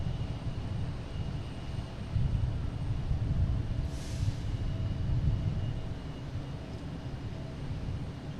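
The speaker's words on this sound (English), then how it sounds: "Southwest landing over here. Oops, sorry. Coming in from Chicago Midway." A Southwest Airlines jet arriving from Chicago Midway lands at Boston Logan airport, a steady low engine rumble heard from a distance that swells slightly mid-way and stays continuous with no talk.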